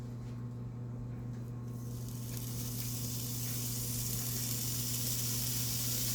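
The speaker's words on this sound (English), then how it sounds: "my skillet has been heating up, and we're going to go ahead and get our little patties in there" Ground beef patties sizzle in a hot skillet with a steady, faint hiss that swells brighter partway through, heard alone with no talk.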